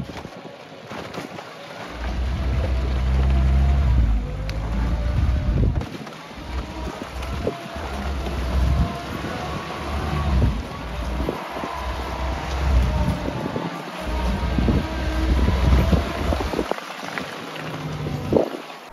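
Willys CJ-3B Flatfender jeep plowing through mud on off-road tires, a heavy low engine rumble rising and falling with wind buffeting the microphone, loud and close throughout.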